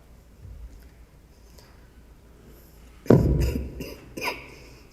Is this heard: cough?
yes